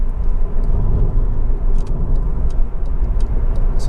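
A 2008 Honda Civic 1.8 i-VTEC hatchback with an i-Shift automated manual gearbox drives and slows down, giving a steady low engine and road rumble heard from inside the cabin with faint ticking above.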